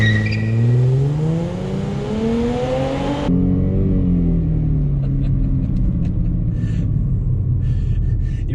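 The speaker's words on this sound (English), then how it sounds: "Let's do another little launch here." A Mercedes-Benz C300 W204 launches hard from a stop, its engine note climbing steadily through the revs, then dropping as it shifts and pulls again, loud and close inside the car.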